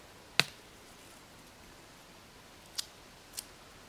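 A hardneck garlic bulb is broken apart into cloves with one sharp, close crack, followed by two fainter snaps a few seconds later against quiet background.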